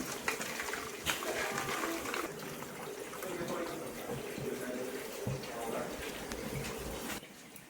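Hot water gushes and splashes as boiled chapati pieces are drained into a colander in a home kitchen, a continuous pour that tapers off at the end.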